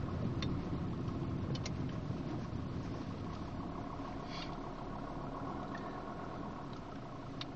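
Car being driven with Mobidrive hand controls for a paraplegic driver: a steady, even interior engine and road hum at moderate level throughout, with faint light clicks and no talking.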